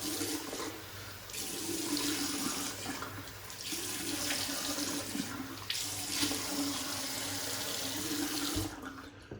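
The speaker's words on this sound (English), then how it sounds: "Wet the face and we'll lather up." Tap water runs steadily into a sink to wet the face before shaving, a continuous close splashing rush that cuts off at the end.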